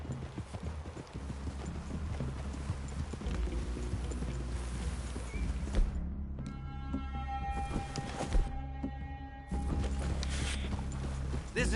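Horses in a PS4 video game plod along with steady, close clip-clop hoofbeats over a low ambient bed, with brief tonal game sounds partway through.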